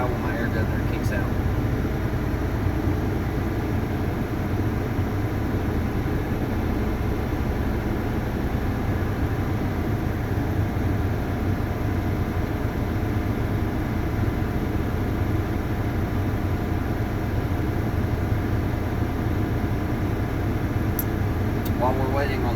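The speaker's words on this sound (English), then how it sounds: "I'm going to continue to rev my motor until I reach 125 psi when my air governor kicks out." A truck engine held at steady high revs to build air brake pressure, a loud continuous droning hum that goes on without a break.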